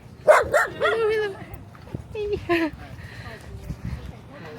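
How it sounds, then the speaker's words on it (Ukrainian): A small dog yaps in a quick burst of high, sharp barks and yips, close by, while people talk nearby at Miami Beach. "чим менша собачка, тим більше гавкає"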